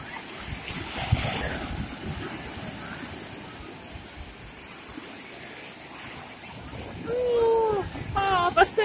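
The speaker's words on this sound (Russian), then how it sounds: "Волна." Stormy sea surf breaking on a Black Sea beach at Karolino-Bugaz, a steady roar of waves and wind buffeting the microphone, with voices and a shout surfacing toward the end.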